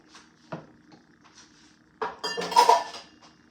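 Rice is added to a pot of stuffed pepper mixture with a few spoon taps and clinks, followed by a brief louder burst of metallic scraping and rustling against the pot.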